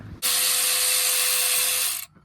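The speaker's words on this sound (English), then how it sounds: "now I'm gonna go get the ratchet" A ratchet or power tool loosening front brake bolts on a 2000 Ford F350 with a V10 gives one steady, loud, continuous whirring burst lasting about two seconds, with no talking.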